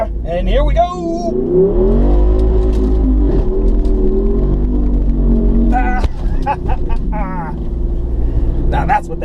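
Jeep with a V8 HEMI engine and performance exhaust, rumbling deep and loud throughout with rising revs and sharp throttle blips, while voices talk over it.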